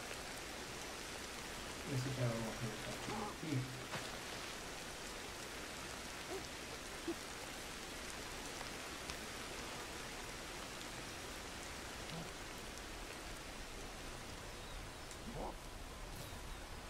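Steady, soft rain patters across the landscape in the game Ancestors: The Humankind Odyssey, a constant gentle hiss heard from a distance, with someone speaking briefly over it near the start.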